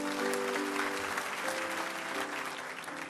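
A church congregation applauds during a sermon, a dense, steady wash of clapping that continues throughout with a faint tonal hum underneath.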